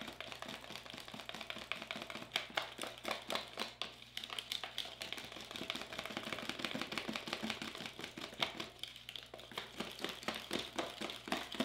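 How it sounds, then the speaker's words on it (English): Wire whisk beating milk paint for vintage frames in a small container, a fast, steady run of light tapping clicks against the sides, continuous and close throughout with no talk. "So we're just gonna whisk it up."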